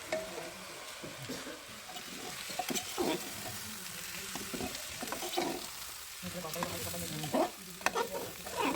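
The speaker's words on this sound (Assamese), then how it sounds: "চাউলখিনি আগতে ধুই পখালি ৰাখিছিলোঁ সেইখিনি ভালকৈ ভাজি ল'লোঁ" Washed rice sizzles in hot oil with cinnamon, cardamom, cashews, raisins and vegetables for pulao, frying steadily while a spoon stirs it in irregular scraping bursts, fairly quiet and close.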